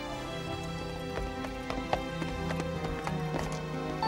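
Cartoon horse hooves clip-clopping at a steady trot, a run-down nag pulling a cart toward a castle banquet, with repeated light clops over a busy musical background.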